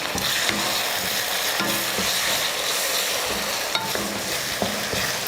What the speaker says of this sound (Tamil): வெங்காயம் இந்த அளவுக்கு வதங்கினதுக்கப்புறம் இதில் தக்காளி சேர்த்துக்கலாம்